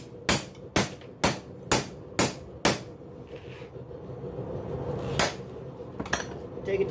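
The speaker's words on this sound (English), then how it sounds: "You take your hammer and flatten it out to 90." Six evenly spaced ringing hammer blows flattening hot steel on an anvil, loud and close, followed by a quieter pause and a couple of lighter strikes.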